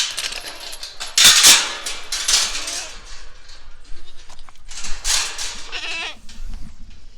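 Goats on a farm, penned in electric netting, bleat intermittently at close range in hot outdoor conditions, with bursts of rustling and brief clanking between calls.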